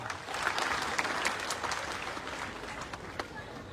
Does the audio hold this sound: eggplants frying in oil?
no